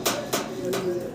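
Fancy pigeons coo close by, with a short low cooing call against soft background noise.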